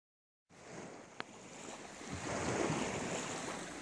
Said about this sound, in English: Some waves, huh?